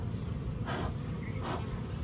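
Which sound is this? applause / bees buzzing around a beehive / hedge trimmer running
bees buzzing around a beehive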